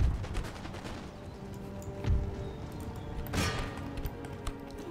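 Artillery fires shrapnel shot in the video game Empire: Total War: a few distinct booming blasts at uneven intervals over a continuous crackle of battlefield gunfire.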